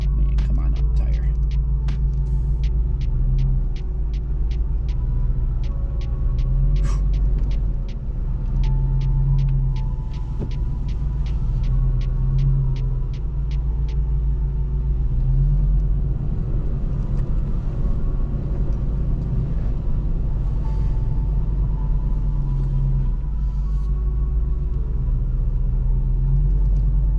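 An overland vehicle crawls up an off-camber trail on Pioneer Pass, its engine a loud, steady low rumble throughout, with rattling and creaks over it and people talking in the cab.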